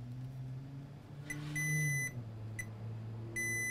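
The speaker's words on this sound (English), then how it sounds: "Meter in diode mode. Let's measure to confirm the short." A multimeter in diode mode beeps while probing a shorted capacitor on an iPad 6 A1893 logic board, giving several short, sharp electronic beeps of varying length over a low background hum, close and clear.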